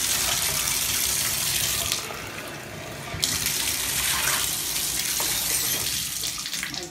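Water pouring steadily from a cup or tap while a bathtub is rinsed, a loud continuous splashing rush with slight shifts in tone.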